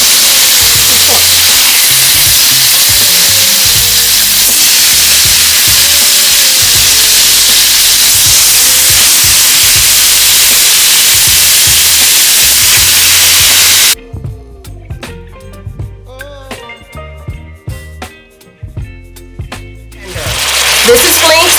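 Steak sizzles loudly in hot oil in a pan for pepper steak, a dense, steady hiss that drops away sharply partway through and leaves quieter clatter and softer frying.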